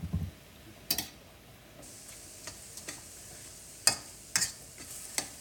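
Ground turkey and onions cook in a pan over medium-high heat, a soft steady sizzle broken by scattered sharp clicks and scrapes of stirring, close and fairly quiet with no talking.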